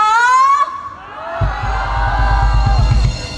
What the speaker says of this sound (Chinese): 掌声加尖叫